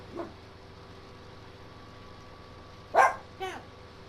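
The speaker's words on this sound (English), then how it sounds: "Sorry about that, dog's getting excited." An excited dog gives a short, loud bark followed by a second quicker yip, with a fainter bark just before, over a steady low hum.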